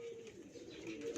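A female pigeon with three markings coos quietly, giving a low, soft, throaty coo that swells slightly toward the end.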